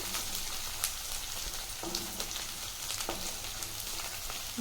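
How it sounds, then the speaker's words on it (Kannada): Cashews fry in a pan as part of a quick lunch box recipe, with a continuous close sizzle and sharp crackles and pops scattered through it, as if stirred now and then. No one talks. "ಇದು ಸ್ವಲ್ಪ ಚೆನ್ನಾಗಿ ಫ್ರೈ ಆಗಬೇಕು. ಹಾಗೆ ನಾನು ಸ್ವಲ್ಪ ಗೋಡಂಬಿ ಕೂಡ ಹಾಕೊಳ್ತಾ ಇದ್ದೀನಿ."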